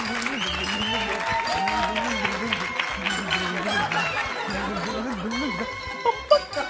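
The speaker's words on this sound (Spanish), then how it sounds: "Un aplauso, por favor." A studio audience at a 2003 Mexican television parody show applauds steadily, with scattered laughter and chuckles mixed into the clapping. A tonal voice or music line runs over it, and the clapping stays moderately loud throughout.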